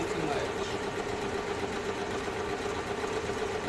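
Sewing machine serging the full perimeter of a bonnet, running as a steady continuous motor whir at moderate volume for the whole stretch.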